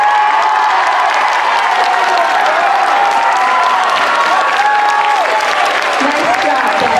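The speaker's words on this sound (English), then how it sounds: "That was a nice round of applause." Loud sustained applause with some cheering from a school assembly crowd at a freshman awards ceremony for an award recipient, dense clapping throughout with a voice speaking over it.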